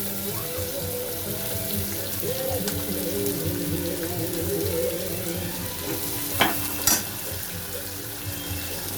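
Finely chopped onion with dried and green chillies sizzles in a pan for dal khichdi, a steady close crackle with a couple of brief clinks of utensils.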